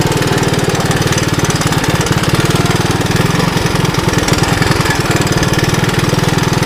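A 1981 Honda 185S motorcycle rides off-road, its single-cylinder engine a loud, close, steady rapid thrum with slight rises and dips in revs and no talk over it.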